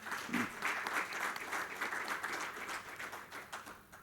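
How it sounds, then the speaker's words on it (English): An audience applauds conference panelists at a technology summit, steady sustained clapping from a crowd that fills the room and tapers slightly toward the end, with a brief voice near the start. "perhaps a round of applause for these the"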